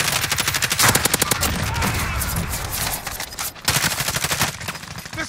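Repeated bursts of automatic gunfire in a battle royale shooter, loud rapid volleys that break off briefly and resume, with only faint voice traces underneath.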